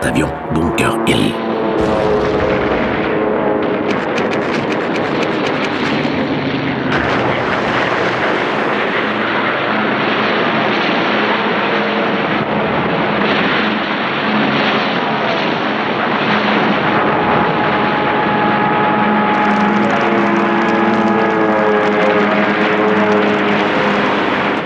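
WWII kamikaze aircraft diving onto the carrier Bunker Hill: a loud, continuous engine roar with shifting pitch fills the whole stretch, archival and harsh, with a narrator's voice running over it.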